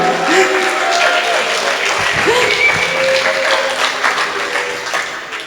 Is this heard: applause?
yes